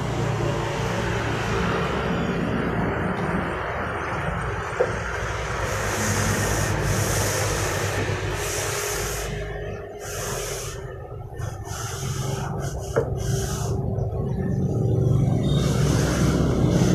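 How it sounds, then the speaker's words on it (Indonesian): Hand sanding of a fiberglass wall moulding mould with folded sandpaper: continuous close scratchy rubbing strokes, steady and fairly loud throughout. "Kita arahkan ke cetakan yang akan diamplas."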